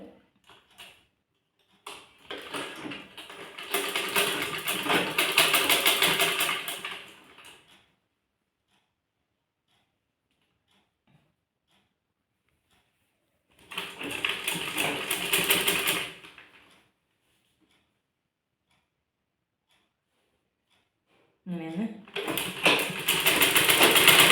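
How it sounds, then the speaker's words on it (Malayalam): A sewing machine stitches piping onto a maxi dress in three loud bursts of rapid mechanical whirring, with silent pauses between runs. "രണ്ട് ഭാഗവും ഇതുപോലെ തയ്ച്ചെടുക്കാം"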